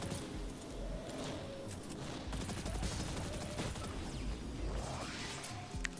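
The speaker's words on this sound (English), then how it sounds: "I am using a submachine gun as my primary shield breaking weapon" Submachine gun fire from Destiny 2 rattles in dense, continuous bursts amid impacts and whooshing game effects, a busy, fairly faint battle mix with no talk.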